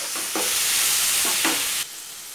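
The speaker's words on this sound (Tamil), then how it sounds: "எல்லாம் நல்லா வதங்கட்டும்." Cashews, onions and tomatoes sauté in a hot pan for palak paneer, with a bright, steady sizzle and two brief stirring scrapes, close and alone, before the sizzle drops sharply near the end.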